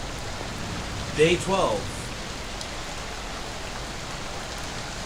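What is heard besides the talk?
rain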